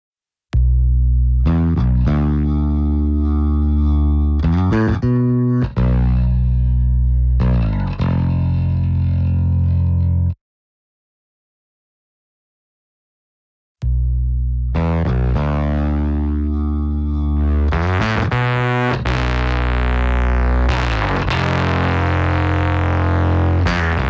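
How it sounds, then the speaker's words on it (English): A soloed bass track pushed through heavy fuzz distortion from the CLA MixHub plugin gives thick, buzzy sustained notes, played in phrases with a pause of silence midway, then brighter, more saturated tones at the end. "I'll show some of the fuzzed up distortion you can get from this thing."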